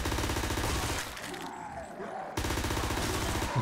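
Ray gun from Black Ops III Zombies, on the Forsaken Clinic custom map, fires in rapid, dense bursts, loud and close, with a brief lull in the middle before the firing resumes.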